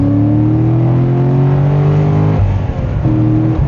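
A Chevrolet Corvette C6 Z06 with a Haltech engine management system pulls hard under acceleration, its engine note rising steadily and loud from inside, then it shifts briefly and climbs again.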